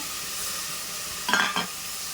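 Tomatoes fry with onions, mint and coriander in a pan, giving a soft continuous sizzle. A brief louder scrape of stirring comes about midway, and no one speaks.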